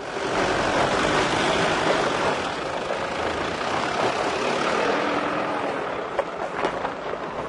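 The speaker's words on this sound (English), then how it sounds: "Gently ease the accelerator when the wheel begins to spin." A 4x4 vehicle engine labours up a steep, rough slope, giving a steady, loud, broadband roar that holds for several seconds before easing slightly near the end, with no voices.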